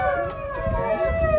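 Siberian husky racing dogs, excited before a run, howl and yip together close by, a sustained wavering howl over a low rumble and some background chatter.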